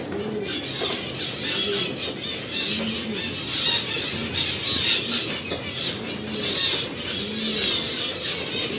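Pigeons cooing repeatedly in a bird reserve aviary, soft rounded coos recurring every second or so over a steady chirping background of other birds.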